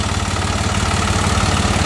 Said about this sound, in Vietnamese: Máy đang nổ và chút xíu chúng tôi sẽ hoạt động cho bà con xem luôn.